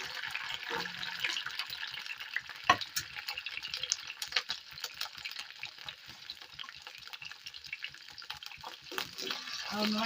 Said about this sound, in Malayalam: വെളിച്ചെണ്ണ ചൂടായി വന്നിട്ട് നമുക്ക് അതിലേക്ക് ചുവന്നുള്ളി ഇട്ട് കൊടുക്കാം